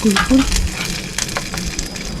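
Pasta pesto gently warming in a pan, giving a steady close sizzle and frying crackle throughout with light stirring scrapes, no talk over it.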